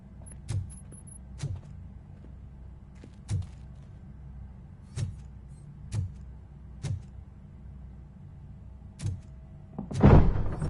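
A door being worked open in a video game gives a series of evenly spaced soft thunks and clicks over a quiet hum, ending in a louder scraping clatter as it gives way.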